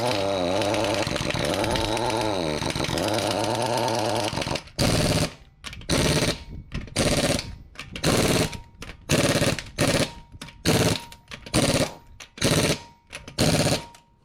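Work on the front struts of a 2015 Toyota Sienna: a power tool tightens the strut bolts in a run of loud, rattling impact bursts broken by short pauses. Steady mechanical droning comes before them.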